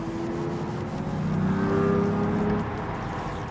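Car accelerating while being pushed a little on the road, a steady engine drone rising and swelling slightly in the middle, heard from inside with no talk.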